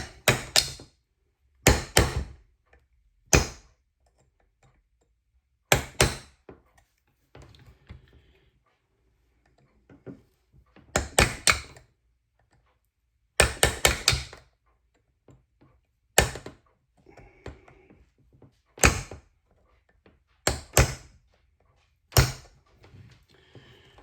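A part of a KitchenAid Pro 500 stand mixer is struck repeatedly during a regreasing job, sharp loud whacks in irregular bursts of two to four hits separated by quiet gaps.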